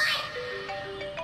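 A phone ringtone sounds for an incoming call, a brief run of clear, sustained electronic melody tones, fairly loud and alone.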